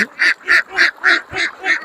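Six loud, evenly spaced quacks from ducks close by, a steady rhythmic call with short pauses between each one.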